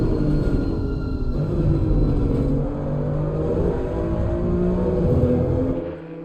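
A touring race car engine in Assetto Corsa Competizione drones and revs continuously at close range, a steady mechanical rumble with slight pitch shifts, easing off at the very end.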